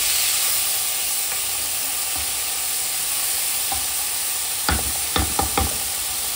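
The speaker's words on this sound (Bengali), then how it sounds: "কয়েক মিনিটের জন্য ভেজে নিচ্ছে।" Lentils frying and being stirred in a pot for khichdi, giving a continuous soft hiss, followed near the end by a few sharp clinks and scrapes of a spoon against the pot.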